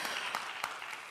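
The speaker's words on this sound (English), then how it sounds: "We like the applause." Brief burst of audience applause at a startup panel discussion, a short patter of clapping heard at moderate distance.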